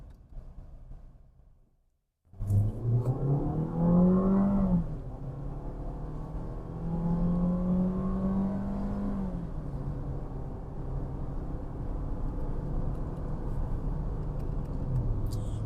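A Suzuki Fronx with a 1.5-litre engine accelerates hard in first gear, its engine note rising steadily, easing back, then holding a loud, continuous drone close to the microphone.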